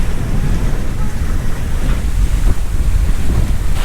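A sailboat moves at around five knots in light Caribbean wind on a sunny day, with heavy wind buffeting the microphone over the rushing wash of waves against the hull.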